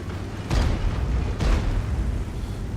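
Two heavy tank gun impacts boom in World of Tanks on the Karelia map, shells striking a Super Pershing, each a loud thudding blast with a decaying rumble, set about a second apart over a low engine drone.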